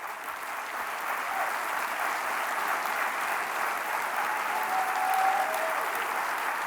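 Audience applause after a guest speaker's talk, a steady sustained wash of many hands clapping at moderate distance, even in loudness for several seconds with no voices on top.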